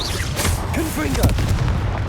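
Confringo blasting spell explosions in Hogwarts Legacy, heavy booming bursts over a dense rumbling battle bed, loud and close, with short tonal swooshes in between.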